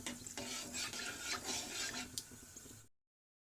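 Whole spices tempering in hot oil over a high gas flame give a steady, close sizzle with faint stirring scrapes, then cut off abruptly.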